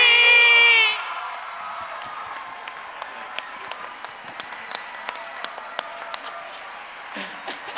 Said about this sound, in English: Ladies and gentlemen, a round of applause, please, for Fiston.